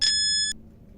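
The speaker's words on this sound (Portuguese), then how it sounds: "o quarto comando, ele é o sinal de início, que usualmente é um aviso sonoro, um bip de um timer" Electronic shot timer start beep for a practical shooting stage, a single sharp high-pitched tone lasting about half a second, loud and close, followed by faint room noise.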